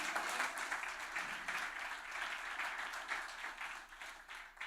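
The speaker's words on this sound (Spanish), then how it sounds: "Dese un aplauso a usted mismo." Applause from a church congregation at a Sunday service, a continuous dense wash of many hands clapping at moderate, fairly distant loudness, with no talking over it.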